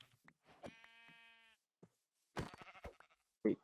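A sheep in the Minecraft video game gives one drawn-out nasal bleat near the start, followed by scattered clicks and game sounds, heard clearly at close range.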